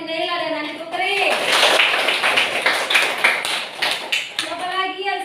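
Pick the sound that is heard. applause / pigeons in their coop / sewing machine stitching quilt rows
applause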